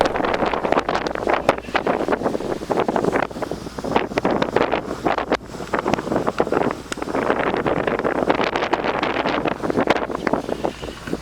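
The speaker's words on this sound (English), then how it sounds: "You can hear how windy it is outside today" Strong, steady wind buffeting the microphone, a continuous loud rumbling roar with gusty flutter throughout, no voices.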